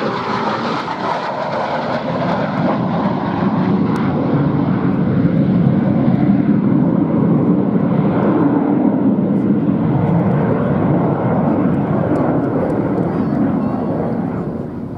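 An RAF day fighter jet flies at the Duxford VE Day anniversary air show, a loud continuous roar that holds steady across the pass, with a commentator's voice faintly under it.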